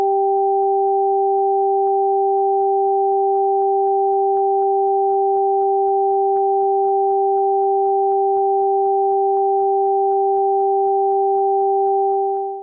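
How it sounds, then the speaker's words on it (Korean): Two steady pure tones, one high and one low, sound together with a faint, rapid pulsing beneath them, creating an auditory illusion of alternating pitches. It is loud and continuous with no speech. "고음과 저음이 번갈아 들리지 않으셨나요?"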